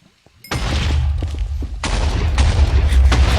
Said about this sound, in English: What's with the TNT explosions?